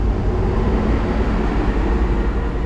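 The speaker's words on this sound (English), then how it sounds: "and this is the train." A train rumbles past close by, a steady heavy low roar with broadband rail noise holding constant throughout, no voices over it.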